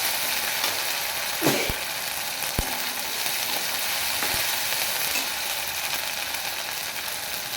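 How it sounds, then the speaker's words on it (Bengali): Ginger garlic paste with turmeric spluttering in hot oil, a dense continuous sizzle broken by a few sharp pops and spatters, close and fairly loud. "দুর্দান্ত ছেটকাচ্ছে গাইস, এই হলুদটা দিলে আর ছেটকাবে না।"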